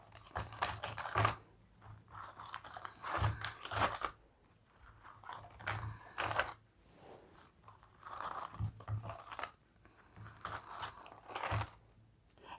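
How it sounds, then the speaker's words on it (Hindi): A large deck of tarot-style cards shuffled by hand, soft riffling and crisp slapping bursts repeating every couple of seconds, close and fairly quiet, with no speech. "इनको शफ़ल करना बहुत मुश्किल है क्योंकि बहुत सारे कार्ड हैं, तो मैं इस तरीके से शफ़ल कर रही हूँ"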